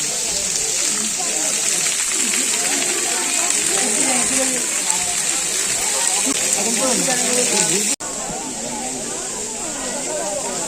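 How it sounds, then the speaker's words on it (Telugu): Water flows and splashes steadily at the Papavinasanam temple in Tirumala, a constant rushing wash close by, with a person talking over it the whole time. "సో ఇక్కడ నుంచి వాటర్ వస్తాయి అన్నమాట."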